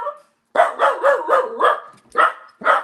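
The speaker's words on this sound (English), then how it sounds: "That sounds like a dog." A dog at home barks in a quick string of sharp, loud, close barks and yips, with short gaps between them and no talking.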